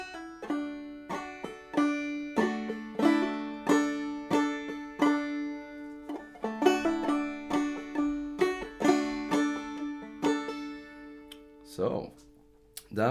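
Clawhammer banjo picks out several measures of Big Rock Candy Mountains, with crisp, evenly spaced plucked notes and brushed strums ringing in a steady bouncing rhythm, alone and fairly quiet, ending in a brief pause and a couple of scattered notes.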